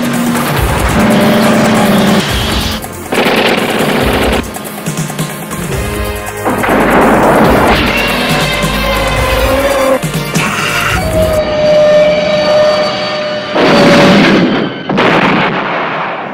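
Car chase from the 1986 Running Scared movie trailer: loud roaring engines, crashing impacts and gunfire-like bangs in bursts, mixed with dramatic music, with quiet gaps between the hits.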